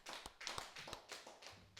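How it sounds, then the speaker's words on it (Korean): Congregation at a Sunday worship service in a Full Gospel church clapping, heard as a handful of sharp, uneven claps and taps spread across a short moment, fairly close and moderate in level. "하나님께 영광의 박수 돌려드리겠습니다."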